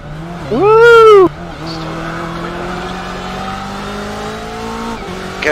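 In a 24-hour Le Mans racing video game, a race car engine drones steadily while a loud tire squeal rises and falls early on, then the engine note climbs slowly.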